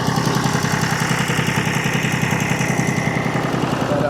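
A John Deere 830 utility tractor engine runs steadily at idle nearby, a continuous rhythmic diesel chugging with strong low pulses, loud and unbroken with no talk over it.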